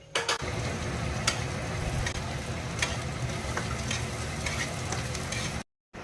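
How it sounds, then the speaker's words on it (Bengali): Vegetables frying in white oil in a hot wok (kadai), giving a steady, close sizzle that runs continuously with faint stirring scrapes and no talk, then drops out briefly near the end. "সাদা তেল দিয়ে ফ্রাই করব সব ভেজিটেবলগুলোকে"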